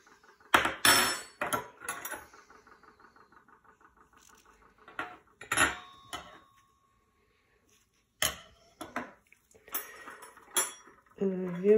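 Silver-plated cutlery clinks and clatters in short bursts with quiet gaps between, and a person speaks intermittently over the handling noise.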